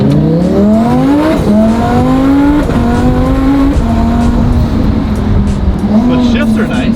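A rebuilt twin-turbo Lamborghini drives and accelerates hard, its loud engine note climbing through several gear shifts with brief dips between, heard from close by with a voice in the mix.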